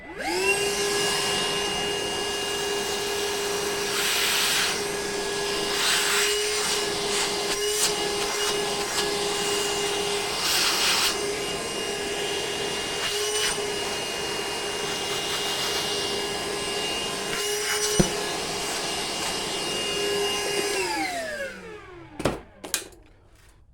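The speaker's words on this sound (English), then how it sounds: "I'll grab my vacuum, I'll vacuum it out" A vacuum cleaner runs steadily while sucking debris out of an OM606 diesel engine during intake cam work, with a loud continuous whine and occasional clicks, then powering down and winding off at the end.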